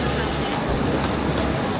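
Steady, loud rail rumble with a high, thin squeal of train wheels at the start that fades after a moment, heard from aboard a moving train in Poland travelling from Gdańsk to Kraków.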